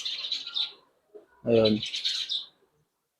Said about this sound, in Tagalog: Maraming ibon din, no?